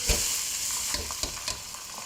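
Rice is stirred in hot oil with melted mastic, frying with a bright continuous sizzle close by, broken by several scraping strokes of the spoon across the pan.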